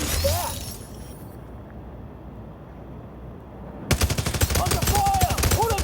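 Video game gunfire in The Division Resurgence: after a few quiet seconds of low ambience, a rapid automatic burst erupts, loud and close, with sharp repeated shots and game effects.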